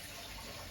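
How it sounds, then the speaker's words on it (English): A spoon rinsed under a running kitchen tap, a brief steady hiss of flowing water, faint and close with nothing else over it. "let's just wash off the spoon."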